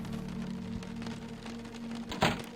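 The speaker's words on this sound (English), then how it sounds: "Still raining outside." Rain falls steadily in the survival video game Cataclysm: Dark Days Ahead, a faint, even patter under a low hum, with one brief sharper burst near the end.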